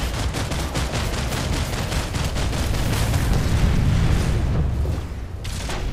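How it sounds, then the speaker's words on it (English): Dense, continuous explosions and gunfire in the sci-fi shooter Planetside 2 rumble loudly throughout, a heavy barrage of booms and rapid cracks with no talk. "Stop with the explosions! They're everywhere!"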